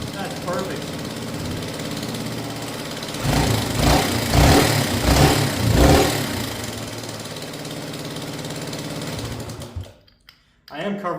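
A Honda XL75 motorcycle engine runs steadily, exhaust muffled by a hand, buzzing, swelling louder for a few seconds midway before briefly cutting off near the end.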